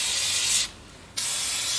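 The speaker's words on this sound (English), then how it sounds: "Just going to put a bit of oil on here" Oil sprays from a can onto a DIY brake drum and rotor puller in a loud, close hiss that stops for about half a second and then resumes.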